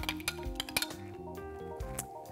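Mayonnaise, prepared horseradish and fresh lemon juice being mixed in a bowl: a run of sharp clinks and taps of a utensil against the bowl, with an underlying tonal ring, close and fairly quiet.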